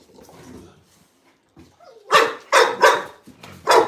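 Puppies and beagles barking loudly up close, four sharp bursts in the second half, after a quieter stretch of soft whimpers and yips.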